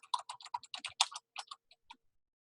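Quick bursts of keystrokes on a computer keyboard, close and fairly quiet, a rapid run of clicks that slows and trails off after about two seconds.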